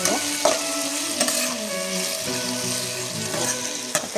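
Spiced potato and onion rice with turmeric is stirred and mixed in a hot pan, loud continuous frying sizzle with occasional spoon scrapes and clinks, close up and without talk.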